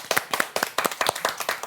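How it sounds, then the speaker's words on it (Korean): Small audience at a Catholic senior academy class clapping hands together in a quick, regular rhythm, each clap sharp and distinct, close and fairly loud. "박수 치면서 한번 시작해 볼까요?"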